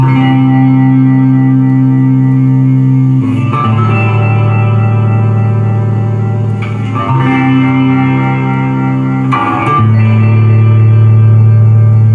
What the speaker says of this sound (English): this chorus and reverb kind of gives like a real kind of interesting kind of sound to it